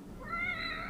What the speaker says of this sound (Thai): น่ารักแมวดำซะด้วย เล่นกับแมวนะครับ